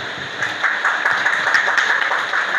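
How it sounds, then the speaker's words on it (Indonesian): A crowd at an Islamic study gathering claps steadily, a dense and fairly loud patter of many hands that carries on without a break and with no talking over it. "kita berikan tepuk tangan yang meriah"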